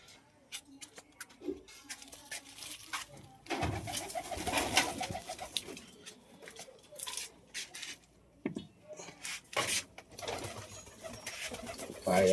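Pigeons coo softly at close range while other handling noises, rustles and a voice intermittently break in.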